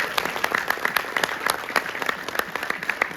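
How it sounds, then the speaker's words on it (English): An audience applauds at a Q&A with Air Force Thunderbirds guests, steady clapping from a crowd that sounds moderately distant, short and even throughout. "Round of applause for Gumbo."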